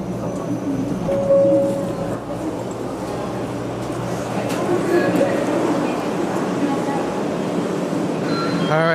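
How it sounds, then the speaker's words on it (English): A 500 series Shinkansen bullet train runs near Shin Osaka, heard from on board as a steady low rumble and rushing roar throughout, with a voice talking over it. "this bullet train will now head to Hakata at 5:37 p.m."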